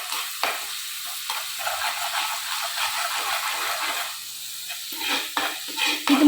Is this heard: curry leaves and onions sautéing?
yes